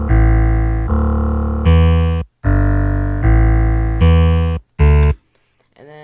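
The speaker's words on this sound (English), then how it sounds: "It's called 808 sub, I guess. But it's like really like grungy sounding," A grungy, heavily distorted 808 sub bass in a drum and bass production plays a loud run of sustained, buzzy notes with short gaps, then two brief hits before a near-silent tail.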